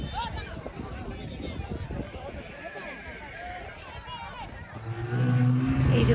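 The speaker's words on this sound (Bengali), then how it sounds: "স্নো বাইক রাইড করবো।" Snowmobile ride in the Sonmarg snow: people talk over wind and movement noise, then a snow bike engine rises into a steady, louder drone over the last second or so.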